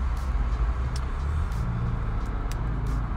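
Inside a car crawling through slow bank-holiday traffic, a low, steady engine and road rumble fills the cabin, with a few faint clicks on top and no talking.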